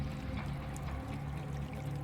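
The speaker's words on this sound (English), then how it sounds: "Where's the water coming from?" Steady water pours and trickles in a video game, a continuous faint stream of flowing sound with no talk over it.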